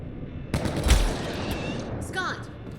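Gunfire in the video game Mass Effect: Andromeda crackles in a rapid burst over busy combat noise, moderately loud, while a voice speaks along with it.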